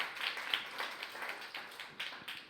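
A crowd applauds in a dense, even patter of many hands clapping, fairly distant and continuous throughout with no voices.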